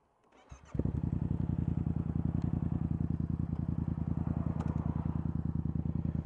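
A Yamaha FZ-07 motorcycle engine with no exhaust, untuned, starts up and idles with a steady, throbbing exhaust pulse, close by and fairly loud, with no one speaking.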